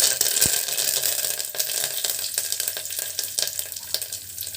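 Mustard seeds, fenugreek, cumin and curry leaves crackle and sizzle in hot oil for an Andhra ridge gourd curry, a steady close, bright hiss broken by scattered sharp pops and a few stirring clatters, with no voices.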